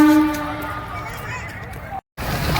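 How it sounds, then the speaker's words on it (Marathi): A railway station with a train present, heard as a brief tonal horn or whistle at the start over a low rumbling clatter of rail noise, close and fairly loud, with a short gap before the rumble resumes. "हे आहे आपले रेल्वे स्टेशन."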